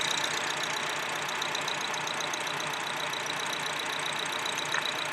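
A 2004 Acura engine idles with a cylinder dead misfire, a steady, close mechanical drone with an uneven knocking texture that continues unbroken throughout.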